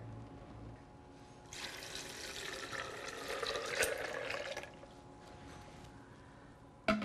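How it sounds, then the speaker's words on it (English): Water pours into a Vitamix blender jar for homemade almond milk, making a steady splashing stream that lasts several seconds and then ends with a small knock. "And I'm going to add some water."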